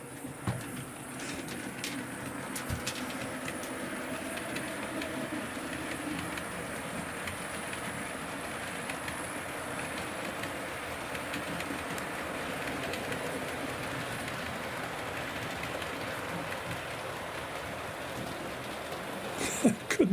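Model railway train running along its track, a continuous soft rumble and rattle with faint clicking over rail joints, steady and moderately close throughout, without any voices.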